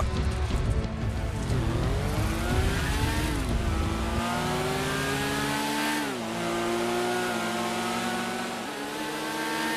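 Motorbike engine in GTA V revving loudly and close, its pitch rising and dropping through several gear-like sweeps over a steady rumbling hum, with no voices.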